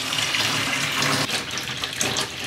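Hot water gushing from a tap into a foot spa basin, a loud, steady splashing rush that continues throughout without a break, close by and alone with no talking.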